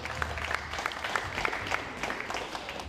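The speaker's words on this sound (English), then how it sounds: "let's have a big round of applause for Lucy Beecroft" Spectators applaud after a women's squash match between Beecroft and Hutton at the South Western Women's Open, a small crowd clapping steadily with distinct individual claps standing out, fairly faint.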